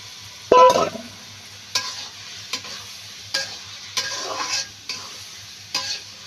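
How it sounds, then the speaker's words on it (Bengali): Fried potatoes stirred into a pan of sizzling spice masala for a fish curry, with a sharp clatter at the start followed by repeated scraping stirs over a steady close sizzle. "ভাজা আলুটা মশলার মধ্যে দেখো দিয়ে দিবে।"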